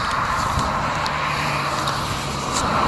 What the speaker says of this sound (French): Il y a pas mal de bagnoles.